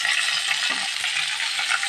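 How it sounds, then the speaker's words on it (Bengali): Cut okra (vendi) dropped into hot spice tempering in a pan, frying with a steady, close broadband sizzle throughout and a few soft clinks and stirring knocks. "এই ফোড়নটা একটু ভাজায় আসলেই কেটে রাখা ভেন্ডিগুলো কিন্তু এর মধ্যে দিয়ে দিচ্ছি"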